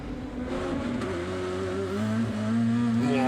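DTM race cars at the Lausitzring, heard from a rear-mounted onboard camera: a loud, close engine drone with rising pitch as the car accelerates, steady and continuous.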